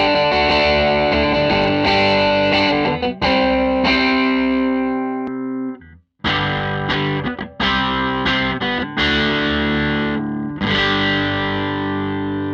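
Distorted electric guitar recorded through repositioned microphones, heavy sustained chords and riffs with a brief drop to near silence midway, then crunchy strummed passages resuming loud and close.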